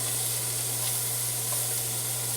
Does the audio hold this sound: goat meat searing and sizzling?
yes